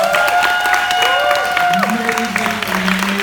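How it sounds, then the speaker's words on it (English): A crowd at a digital media talk claps in a dense, continuous round of applause, with tonal whistles or voices and a few cheers rising over the clapping. "let's give them another round of applause"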